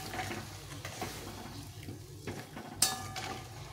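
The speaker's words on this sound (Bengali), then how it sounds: "জল গরম করে রেখেছিলাম, এই জলটা দিয়ে দেবো।" Hot water is poured into a pot of cauliflower curry, a brief splashing pour with clinks of pots and utensils around it at close range in a home kitchen.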